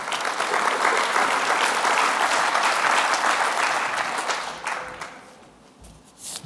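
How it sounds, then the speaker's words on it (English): Conference audience applauding a speaker at a tech launch event, a full, sustained burst of many hands clapping that holds steady and then tapers off toward the end. "So a huge round of applause,"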